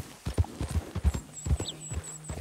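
Horse hooves clip-clop in a steady walking rhythm across the Red Dead Redemption game world, close and fairly loud, with a faint high chirp above and a low hum near the end.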